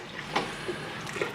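Stirring in a brew kettle while a homebrew ingredient is poured in for a nut brown ale, giving soft, close watery sloshes with a few small splashes over a steady liquid hiss.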